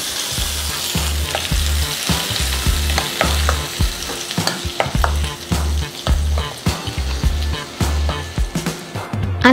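Mustard seeds, cumin and chillies sizzle in hot oil as a tempering for tomato pickle, giving a steady crackling fry that runs throughout with a regular low thumping beat underneath.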